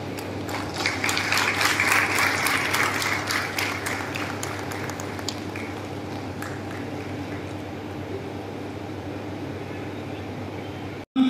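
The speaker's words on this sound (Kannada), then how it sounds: "ಒಂದು ದೊಡ್ಡ ಚಪ್ಪಾಳೆ" An audience at a Babasaheb Ambedkar 133rd birth anniversary ceremony, held by a postal department SC/ST employees' association, claps for an official in a dense burst that thins out after a few seconds, leaving a steady hum.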